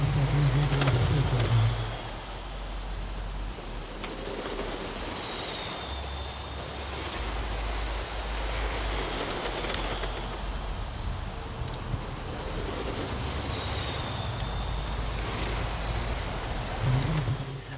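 RC NASCAR trucks racing a 100-lap event on a paved oval track, a continuous high electric whine that rises and falls as the trucks pass, with steady background rumble and no talk.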